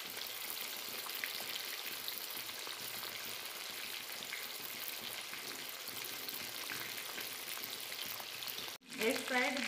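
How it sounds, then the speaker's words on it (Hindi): Fish fries in oil over medium heat, browning lightly, with a dense continuous sizzle and crackle throughout, briefly cut by a sharp clatter near the end. "इसको हल्का ब्राउन होने तक हम लोग तलेंगे।"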